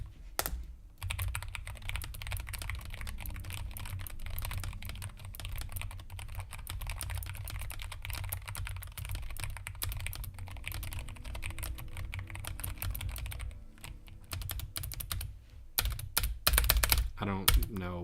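Typing on a thocky mechanical keyboard, a steady run of close, deep keystrokes with a few heavier key and spacebar presses near the end.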